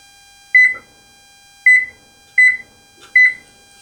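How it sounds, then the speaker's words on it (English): Oven timer beeping in four short bursts of high electronic tones at irregular intervals, clear and close, with no talking. "The oven timer has gone off."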